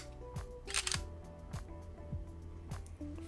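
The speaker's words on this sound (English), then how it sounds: "Nice little shutter speed, shutter sound." A Nikon D3500 DSLR fires its shutter several times, with crisp mechanical clicks in an irregular sequence, close and fairly quiet over a low background hum.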